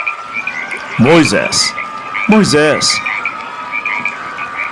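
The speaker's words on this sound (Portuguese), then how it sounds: "Fizeram subir rãs sobre a terra do Egito" Frogs croak in a constant trilling chorus, with two louder bursts of throaty croaks standing out nearby, while someone briefly speaks over them.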